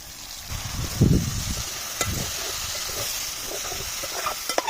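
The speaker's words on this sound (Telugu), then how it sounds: "బోటి ఇట్లా ఫ్రై అవుతా అంటే చిట్టపట్ట అంటే అంటది" Goat tripe frying with onions in hot oil, with a close, steady hiss and sizzle, a few louder bursts of stirring, and sharp pops near the end.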